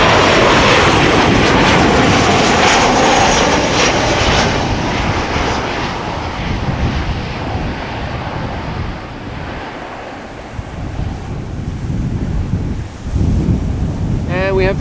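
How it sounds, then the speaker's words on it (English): A KLM Boeing 737-900 arriving from Edinburgh, a loud close engine roar at the start that gradually fades into a lower, windy rumble as the jet passes, with gusty microphone wind and a brief voice at the end. "This is KLM flight 924 arriving from Edinburgh."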